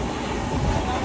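Inside a general-class compartment of a moving Indian passenger train, a steady, dense rumble fills the space up close, with faint voices mixed in.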